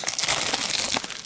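A knife slices open a metal dealer's shipping envelope: a brief, close, dry scratching and crinkling of paper or plastic, fairly quiet and continuous.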